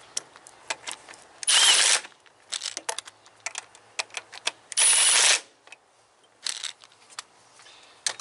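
A power drill runs bolts into a Subaru 2.5 cylinder head during a head gasket job, two short close whirring bursts separated by clicks and handling noises from tools on metal.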